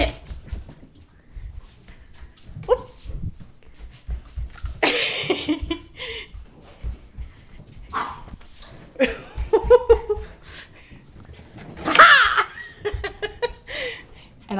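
A maltipoo plays with an ice cube indoors, with scattered scrabbling, skittering and soft yips and whimpers, broken by bursts of laughter and brief talk nearby.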